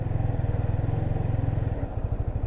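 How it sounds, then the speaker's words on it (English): A motorcycle engine revs at a steady, pulsing idle-like rhythm as the clutch is let out slowly, the beat loosening and dropping near the end; close and moderately loud with no talk. "if you're revving the bike, you're going to release your clutch slowly"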